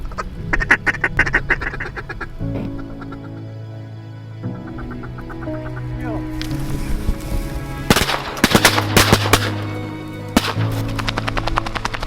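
Ducks quacking in a marsh during a Kansas duck hunt, a steady stream of nasal quacks and calls, some close and loud, with sharp bursts of gunfire layered in toward the end.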